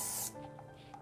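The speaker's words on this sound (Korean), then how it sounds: "잔머리는 스프레이로 고정할게요." Hair spray hisses out in one short, bright burst to hold down stray hairs, then stops, leaving quiet room tone with faint soft movement.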